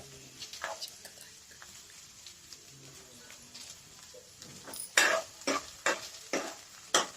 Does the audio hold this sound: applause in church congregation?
no